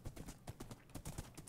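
Horse hooves clip-clop in the Minecraft video game, a quick run of regular rhythmic thuds at moderate loudness with no talk over them.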